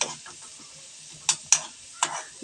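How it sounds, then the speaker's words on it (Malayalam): Red onions (shallots) cooking in oil for a pickle, a faint soft sizzle broken by three sharp clicks of a spoon against the pan. "ചുവന്ന ഉള്ളി ഒന്ന് എണ്ണയിൽ വന്നിട്ടൊന്ന് വാടണം"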